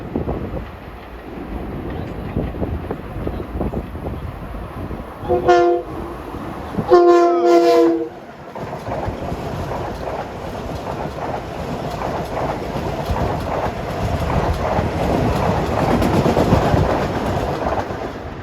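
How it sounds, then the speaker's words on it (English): LIRR train 1658 from Grand Central to Huntington passes Woodside station in Queens, with two loud horn blasts near the start over rolling rail noise that grows louder as the train goes by. "next up at 4:13 is train 1658 from Grand Central to Huntington"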